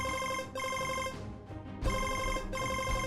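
Telephone ringing with an incoming call in an Indonesian drama scene, steady repeating electronic ring bursts with a short gap mid-clip, loud and close, no talking.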